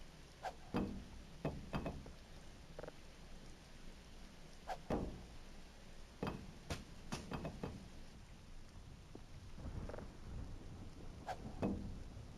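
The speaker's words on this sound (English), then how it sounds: "It is a terrible day for rain." Rain falls steadily in the Voices of the Void video game, a constant soft hiss broken by scattered sharp thumps and cracks.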